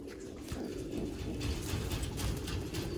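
A newly caught blue pigeon coos in low, throaty rolls, repeating steadily and close by, with soft rustling in the background.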